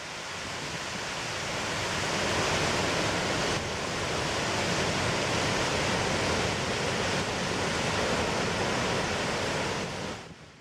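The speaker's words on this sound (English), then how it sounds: "plunges into a ravine, creating many rainbows in the mist. Watch and listen to this amazing amount of water." A powerful Icelandic waterfall fed by glacial meltwater plunges into a ravine, a loud, constant roaring rush of water that swells slightly at the start and holds steady without voices.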